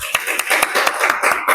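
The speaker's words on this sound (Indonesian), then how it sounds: "Ya, beri tepuk tangan." Students in a classroom clap their hands together in a short burst of applause, a dense, even patter of claps at close range with no talking over it.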